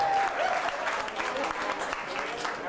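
Loud, continuous applause from a comedy-show audience, a dense wash of clapping that holds steady for a few seconds without fading.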